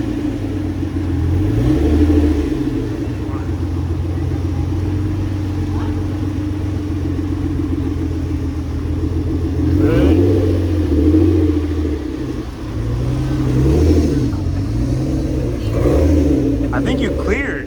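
A twin-turbo Nissan G35 on a quick test drive with a new wheel and tire setup, its engine rumbling steadily and revving up and down at close range, with voices talking over it.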